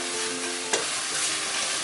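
Sea bass frying in olive oil, a loud dense sizzle that stays steady throughout, with one brief sharp spatter partway through and no voices.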